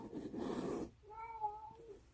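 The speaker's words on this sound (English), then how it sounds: "There is a cat in the background who is apparently lost in a very tiny house." A cat meows in the background of a small house during a quilting and sewing chat, first masked by a broad rustle, then one clear, drawn-out, wavering meow rising alone near the end.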